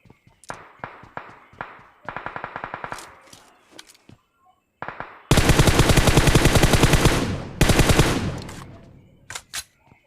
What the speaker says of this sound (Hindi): मुझे पीछे से फिर साउंड आता है शायद गन का गाइस